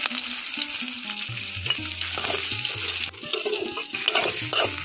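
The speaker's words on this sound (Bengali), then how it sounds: "এখন কেটে রাখা পেঁয়াজগুলো দিয়ে দিচ্ছি।" Chopped onions tipped into hot oil with already-fried cumin seeds and a little turmeric hiss in a loud, steady sizzle, with stirring scrapes throughout and no talking.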